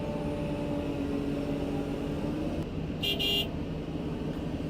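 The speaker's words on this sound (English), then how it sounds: "We'll give Jesus the horn there, and he can move on out of the way." A heavy-equipment horn gives one short, loud honk at a landfill, sounding over the steady rumble of a running diesel machine at close range.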